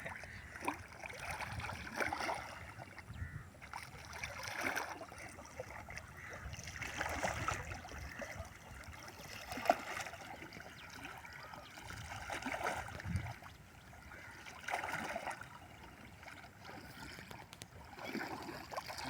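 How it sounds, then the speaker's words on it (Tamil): Water sloshed and stirred by hand in a salt pan channel, faint rhythmic swishes and gurgles repeating every couple of seconds over a quiet outdoor background. "தண்ணியை கலக்கணும், இப்படி நல்லா கலக்க தான் உப்பு விலையும் டக்குன்னு காரப்படணும்"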